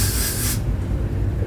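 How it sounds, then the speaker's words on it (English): Got2b hairspray is sprayed onto wig lace in one steady, close hissing burst lasting about half a second, then cutting off to a quiet room background. "so now I'm just gonna spray some Got To Be"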